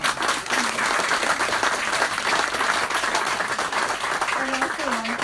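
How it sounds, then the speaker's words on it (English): Sustained audience applause at an author talk, a dense wash of many hands clapping throughout, with a voice briefly audible over it near the end. "let's give Steve a round of applause."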